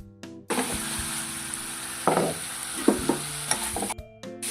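Garlic chutney stirred in a pan over low heat, a steady soft sizzle with a few scraping stirs of the spoon, close and without talk.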